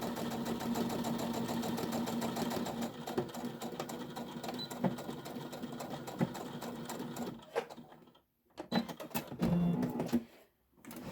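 A sewing machine stitches a tote bag pocket, back stitching then running straight up, its steady mechanical whir continuous for most of the stretch before stopping and restarting in short bursts near the end.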